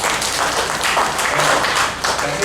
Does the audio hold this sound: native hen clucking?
no